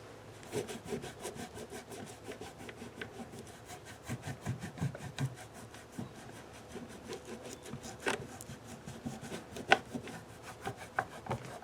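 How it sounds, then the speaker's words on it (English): Rough, repetitive scrubbing on a Yamaha guitar, close and steady, with short rhythmic strokes and a few sharper scrapes and knocks. "So it's just going to take a bunch of this scrubbing"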